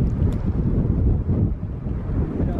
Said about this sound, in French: Oh, le vent, c'est un truc de ouf, il fait trop froid là.